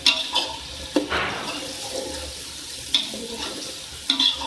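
Fish and potato curry masala frying in a pan while being stirred, with a soft continuous sizzle broken by several sharp scraping and clinking strokes of the utensil, close up and with no talking.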